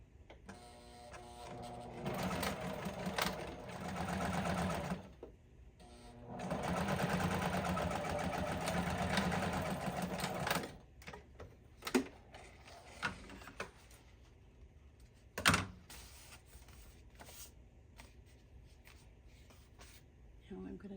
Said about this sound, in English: This time I'm going to use the straight stitch.